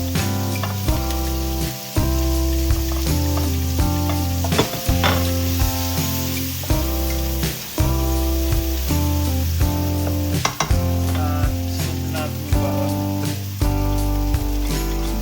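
Ground meat and onion sauté in a pan for Pancit Malabon, giving a continuous close sizzle with stirring scrapes and small clatters throughout, no voices over it.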